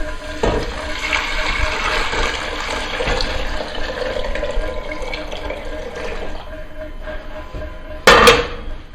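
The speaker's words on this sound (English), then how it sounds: "I'm going to go ahead and add the stock back in." Chicken stock poured into a soup pot for chicken pastina soup, a steady watery rush running for several seconds with faint clinks, ending in a brief louder splash near the end.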